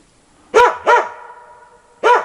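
A hunting dog barking at trees in a snowy forest during a first-snow hunt, three loud sharp barks close by, two in quick succession and a third after a pause.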